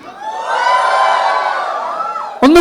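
A college crowd hoots and cheers in a long, loud, sustained roar of voices that rises and then fades, cut off by a sudden burst of sound at the end.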